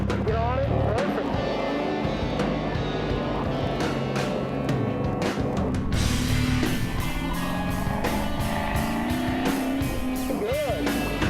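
A drifting car's engine roars and revs through changing pitch, with a steady buzzing drone and rhythmic pulsing in the second half, while a person talks over it throughout.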